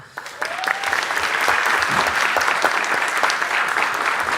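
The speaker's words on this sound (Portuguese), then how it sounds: "E com uma salva de palmas" Crowd applause at an accountability event held at São Paulo's city council chamber, rising quickly after a brief quiet start into sustained, full clapping that holds steady to the end.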